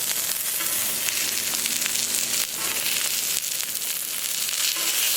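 Sausage sizzling on a Camp Chef Sidekick griddle outdoors, a loud continuous crackling fry with scattered pops and short sharper spatters, close and steady throughout with no talking.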